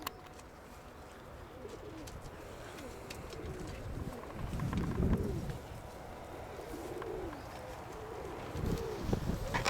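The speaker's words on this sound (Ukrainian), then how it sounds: "Отакі голуби у пацана" Domestic pigeons coo in repeated soft, throaty rolls close by, with several birds overlapping above a low ambient rumble.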